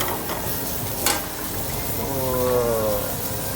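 Blackened salmon fillet searing in a hot pan on a restaurant stove, a steady moderate sizzle running throughout with a faint clink partway through and no talking.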